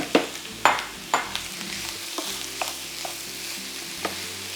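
Ground beef, 80% lean, fries in a pan with bacon and onion, a soft continuous sizzle with a few sharp scrapes of stirring early on that fade to lighter taps, heard up close without talk.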